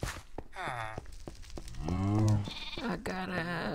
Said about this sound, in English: I got a sheep, a cow.